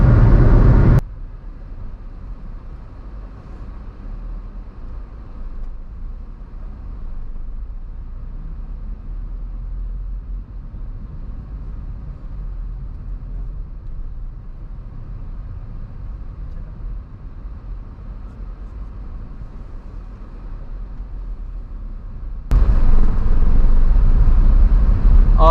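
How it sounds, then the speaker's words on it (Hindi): A car cruising at 100 km/h on the Agra-Lucknow Expressway gives a steady, low road and engine rumble inside the cabin, with louder bursts at the start and end and no talk. "अभी 100 किलोमीटर प्रति घंटे की रफ्तार से हमारी गाड़ी चल रही है"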